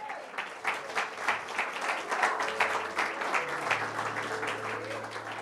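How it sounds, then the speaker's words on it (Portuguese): Applause from a church congregation, many hands clapping in a sustained rippling burst with a low held tone underneath, steady and moderately loud throughout. "Vamos aplaudir o nosso Deus."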